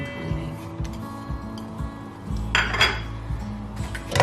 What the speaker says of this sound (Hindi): साथ में इसमें प्याज डाल देंगे